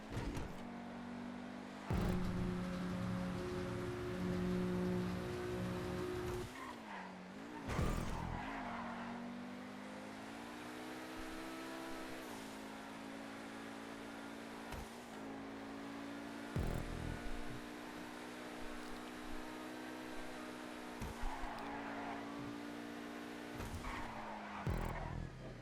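Lamborghini supercar in GTA V Online, engine droning and revving with repeated tire squeals and skids as it slides across rough terrain, game sound effects continuous and loud with occasional thuds.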